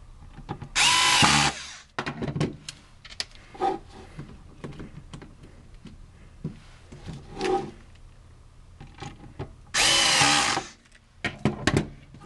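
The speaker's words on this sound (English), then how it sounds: "Then we're going to take the screwdriver and screw it together." Power screwdriver driving screws into HP toner cartridge parts, two loud whirring bursts of about a second each, separated by quieter clicks and handling noises.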